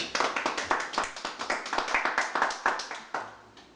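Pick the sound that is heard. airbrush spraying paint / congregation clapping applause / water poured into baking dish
congregation clapping applause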